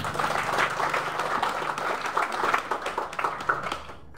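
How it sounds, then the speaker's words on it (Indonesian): An audience applauds at an inauguration ceremony of Nahdlatul Ulama organisations in Pejagoan, with moderate clapping that rises and falls in bursts before fading out at the end. "Tepuk tangan semuanya."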